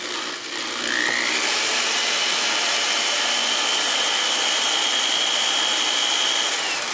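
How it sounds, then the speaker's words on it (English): A geared drill motor driving a flex shaft spins up to trim 5.56/.223 brass cases, rising quickly to a steady, loud, high whine. The whine holds for several seconds over a rough mechanical hiss. "That's why I like a geared drill motor, because it'll keep it spinning after I've let off the trigger"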